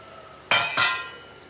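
Fish pieces drop into a hot cooking pot, setting off two quick bursts of loud hissing sizzle that fade away into a quiet background.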